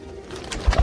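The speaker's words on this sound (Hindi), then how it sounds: "आप पकड़ो फ्रांसीसी कबूतर" French pigeons cooing close by, two low, throaty coos in quick succession near the end of a brief stretch of quiet background hiss.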